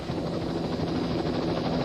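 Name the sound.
helicopter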